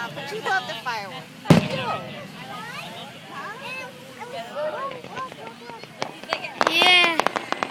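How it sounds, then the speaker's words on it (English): Fireworks burst over a beach, with a sharp loud bang early on and scattered crackles and pops later, heard under cheerful chatter and voices nearby throughout. "But you love the fireworks."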